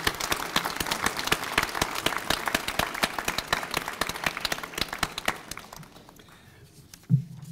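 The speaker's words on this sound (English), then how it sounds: "give them a round of applause for what they've done for you" An audience at a senior awards night breaks into dense, sustained applause of many hands clapping, fairly loud at first, then thinning out and fading to scattered claps before stopping.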